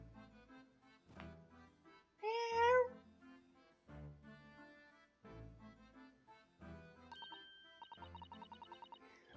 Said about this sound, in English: Oh, look, it's a lovely little kitty cat.